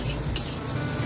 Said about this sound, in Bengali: দেখো পেঁয়াজটা প্রায় ভাজা ভাজা হয়েই এসছে